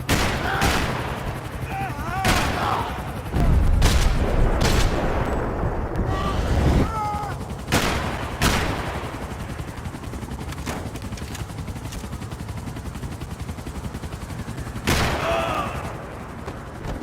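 Rapid gunfire in the video game Max Payne 3: several loud sharp bursts and single shots cut through a churning roar of engines and explosions, with shouting voices scattered in between.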